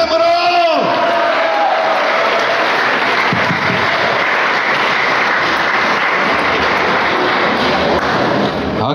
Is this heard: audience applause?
yes